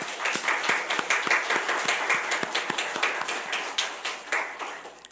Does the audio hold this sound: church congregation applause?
yes